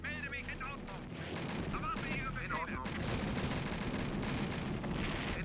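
Dense continuous gunfire and explosions from the real-time strategy game Command & Conquer: Red Alert, loud and sustained throughout, with a busy battle din mixed under other game sounds.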